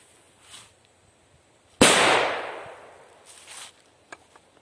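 A Dragon Eggs NSCR01 firecracker goes off outdoors with one sharp, loud bang and a rumbling tail that fades over a second or so, and a few faint pops follow.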